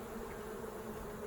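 Honey bees buzz at a beehive in a continuous low, even drone at close range, with no voices.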